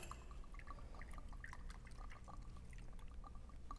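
Wheatley vodka poured from a spout into a cup, a steady close trickle broken by small drips and splashes, continuing throughout at moderate volume.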